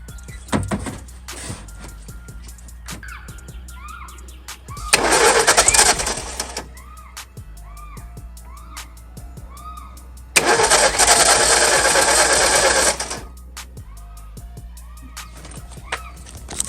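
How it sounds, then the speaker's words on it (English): An old Ford Mustang, left sitting for 30 years, cranks over in two loud sustained bursts of roughly two and four seconds, with quiet gaps and small clicks and clatter between attempts. "Tried to start, guys. They tried to start."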